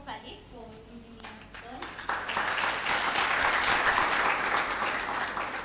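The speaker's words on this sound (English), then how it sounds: "So now we can clap properly for Engineer" An audience claps for an engineer at a Pre-World Engineers Day 2026 event, with applause swelling in after a brief pause and continuing loudly as a sustained crowd wash.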